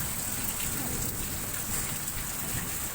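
Steady rain falls outdoors during grilling, a dense continuous wash of patter with no breaks, close and fairly loud throughout.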